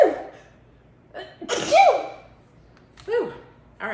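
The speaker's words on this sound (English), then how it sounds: "oh, I gotta sneeze." A woman sneezes loudly and explosively while arranging cut alstroemeria flowers, preceded by a sharp inhale and followed by a brief exclamation, close to the microphone in a quiet room.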